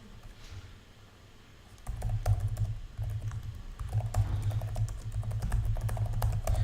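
Someone types steadily on a computer keyboard, with soft, quick key clicks that start faintly and then continue more densely and closer for several seconds.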